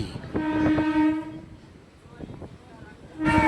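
A suburban train at Madhyamgram station near Kolkata sounds its horn, two loud blasts separated by a short gap over running rumble.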